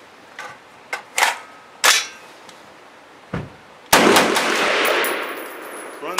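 An IMI polymer magazine drops free from a V Seven lightweight AR-10 rifle, giving a few sharp clacks and clatters of plastic on metal, followed by a loud, reverberant report that rings out outdoors.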